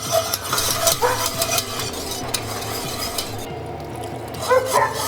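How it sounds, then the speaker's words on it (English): Whisk or spoon stirring butter into a béarnaise sauce with tarragon in a pan off the heat, a steady close scraping and gentle sizzle with occasional light clinks of utensil against the pan. "So heat's off and we add butter slowly."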